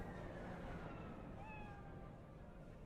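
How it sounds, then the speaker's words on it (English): A cat in Cyberpunk 2077 gives one short, faint meow partway through, set in a city alley against a steady hum of background ambience. "Hey, alley cat."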